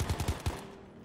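A rapid burst of automatic gunfire in a video game battle, several quick shots in a row before tailing off, close and punchy with no talking.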